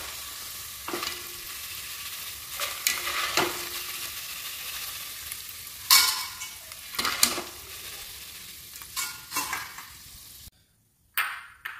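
Jackfruit pieces frying in a pan for jackfruit payasam, a steady sizzle broken by repeated scraping and stirring strokes of a utensil against the pan, close and fairly loud, ending in a sudden near-silence.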